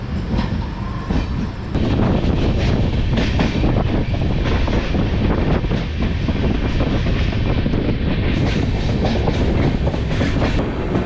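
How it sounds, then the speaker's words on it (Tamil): A train rolling steadily along the rails after departing Katpadi, Vellore, with a dense, continuous rumble and clattering wheel noise throughout, close and loud. "இப்போது காட்பாடியிலேருந்தும் உங்களுக்கு ட்ரெயின் ஸ்டார்ட் ஆகிடுச்சுங்க"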